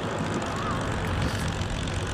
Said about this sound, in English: Very graceful aircraft.